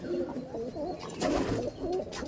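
Punjabi pigeons coo repeatedly in soft, low, rolling calls, close by and overlapping, over a busy background of indistinct voices and shuffling noise.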